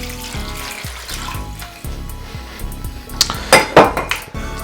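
Water runs into a metal pot for pickling brine in a kitchen, a steady splashing flow broken by rhythmic low knocks and ending in a few sharp, bright clinks of metal.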